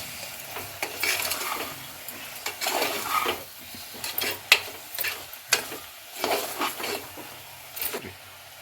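Chili powder fries in oil for a chicken curry, giving a soft, quiet sizzle broken by scraping and stirring clinks of a spoon against the pan.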